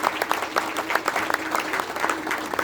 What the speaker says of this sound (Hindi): मैं चाहूँगा जोरदार तालियां हो जाए दोस्तों, जोरदार तालियां